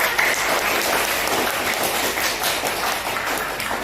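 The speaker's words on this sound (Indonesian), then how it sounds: "Keren, tepuk tangan dulu." A roomful of people applauding for a biology presentation, a steady, even wash of clapping that holds at the same level for several seconds with no talk over it.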